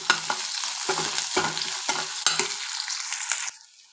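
Onions sizzling in a pan, a steady bright frying hiss broken by several rhythmic stirring scrapes, close and fairly loud, fading out at the end.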